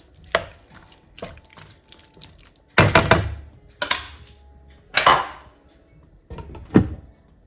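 A lid is set onto a pot of tomatoes cooking for an Indian mushroom cashew nut curry, giving several sharp metallic clinks and knocks spread apart, close and fairly loud with quiet kitchen gaps between them.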